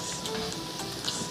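Boneless milkfish (bangus) laid into a hot pan gives a brief, steady sizzle with faint crackles, close by and with no talking.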